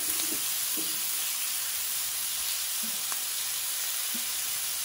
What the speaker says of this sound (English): now that my bacon has released a little bit of oil into my pot, I'm now going in with my sausages.